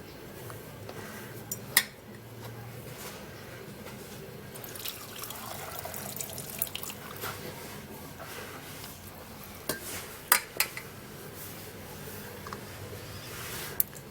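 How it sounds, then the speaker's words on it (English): Tea is poured through a strainer into a mug, a soft trickle and dribble of liquid with a few light clinks of the strainer against the cup, close and quiet, with no talk. "I'm going to be straining this with my strainer into the glass cup"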